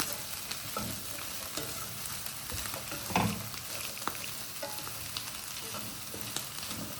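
Kulcha flatbreads roasting on a hot griddle at a Punjabi street-style stall, a low steady sizzle with occasional scrapes and taps of a spatula, close and quiet, no talking.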